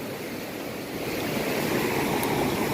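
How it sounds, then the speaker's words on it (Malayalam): A swift river current rushes over rocks in a steady, dense wash of noise that swells slightly toward the end, close and continuous, with no voices. "ഇതാണ് നമ്മുടെ ആറ് ആറിന് ഇത്രയും ഒഴുക്കുണ്ട് കണ്ടോ"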